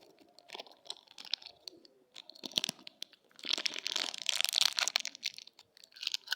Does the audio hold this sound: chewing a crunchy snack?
yes